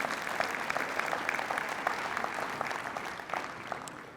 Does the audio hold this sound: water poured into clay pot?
no